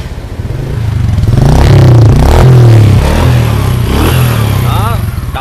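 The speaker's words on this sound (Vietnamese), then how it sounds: "Rồi giờ là mình sẽ nổ máy xe cho mọi người coi." A Honda Wave motorcycle with a 110 frame, rebuilt big-bore engine and Thai-style exhaust starts and revs nearby, a loud throbbing idle rising into throaty revs that fall back, with mechanical clatter and a voice briefly over it.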